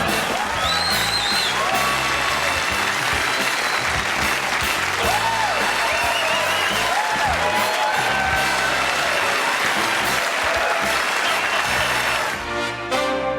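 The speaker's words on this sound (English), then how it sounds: "I'm humbled by that applause." A television studio audience gives a loud, sustained burst of applause with cheers and whoops woven through it. The applause holds full and dense before fading near the end.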